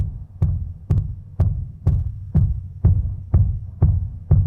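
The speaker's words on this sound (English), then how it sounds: "And I hear the kick drum in there, and that sounds like this." Deep, booming isolated sub kick drum hits from a song repeat at a steady pulse, about two per second, each thud heavy and low with a short decay.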